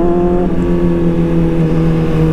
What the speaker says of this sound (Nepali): छवटा बाइक एकैचोटि हिँड्दा त आवाज कत्रो आउँछ होला यार